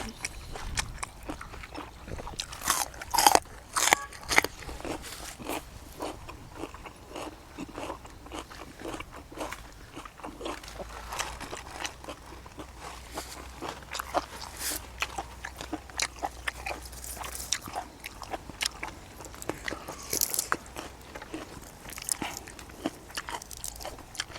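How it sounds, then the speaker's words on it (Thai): Crunchy chewing of water lettuce flowers eaten with bitter chili dip, a steady run of close, crisp bites and chews through most of the stretch, with little or no talk. "รสชาติ ดอกจอกมันจะจืดๆนะครับ จืดๆกรุบๆเอามากินครับ"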